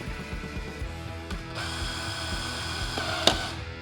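A power tool spins out the last bolt on a Harley-Davidson Street Glide front fairing, a close whirring and ratcheting buzz with a brief sharp clink near the end.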